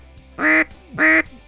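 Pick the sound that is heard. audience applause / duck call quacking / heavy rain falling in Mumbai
duck call quacking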